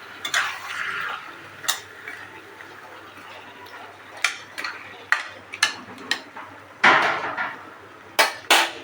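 Chicken pieces being mixed with spices by hand in a bowl, giving a run of scattered clacks and scraping taps at an uneven rhythm, close and fairly loud, with no talking.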